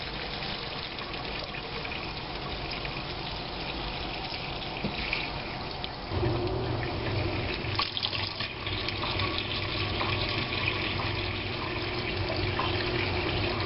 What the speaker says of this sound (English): Run some lukewarm water in the sink with your yarn so you can rinse it off.